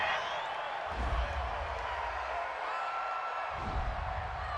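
A home crowd at an NFL football game between the New York Giants and Tampa Bay Buccaneers reacts to a penalty flag on third down, a steady broad roar with a couple of louder swells, heard under a commentator's voice.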